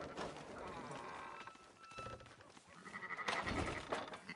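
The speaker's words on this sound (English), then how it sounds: "Fine sheep." Sheep bleat in Red Dead Redemption 2, several short wavering cries rising over faint game ambience and soft footsteps, with a louder bleat near the end.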